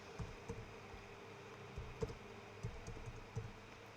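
Computer keyboard typing while entering text in Microsoft Word: soft, irregular key taps in short bursts, fairly quiet and close, with no talking.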